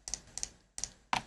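A computer keyboard types a short value into Blender, four quiet separate key taps with small double clicks, the last one slightly louder, close and alone.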